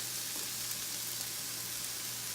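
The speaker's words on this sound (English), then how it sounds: "we're gonna toss everything in here. And we're gonna stir fry it" Vegetables stir frying in a hot skillet, a steady dense sizzle with a faint crackle throughout, close and continuous with a low electrical hum underneath and no talking.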